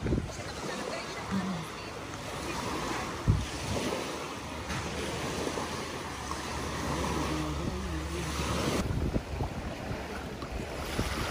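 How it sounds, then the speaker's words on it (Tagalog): Steady wind blows near the sea, with surf washing in the background and voices talking at moments. "Ang ganda ng hangin. Ang sarap ng hangin"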